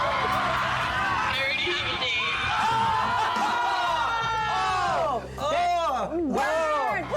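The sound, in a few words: crowd reacting to a rejected promposal at a track meet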